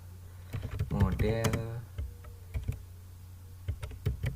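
Keys tapped on a computer keyboard while working in a statistics program, scattered clicks in short bursts at close range, with a voice talking partway through.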